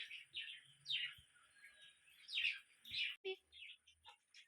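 Bright, high bird chirps and tweets in quick bursts, several calls close together with brief pauses, fairly near and clear against a quiet background.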